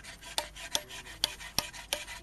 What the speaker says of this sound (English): So while Perlagia is rasping there